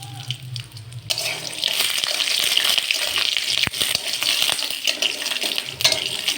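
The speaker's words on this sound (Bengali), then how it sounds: "তেলটা গরম হয়ে গেছে, বাদামটা দিয়ে দিচ্ছি। বাদামটা ভেজে নেব।" Peanuts dropped into hot oil and frying, giving a steady crackling sizzle that starts abruptly and continues, with a few sharp clinks of the pan.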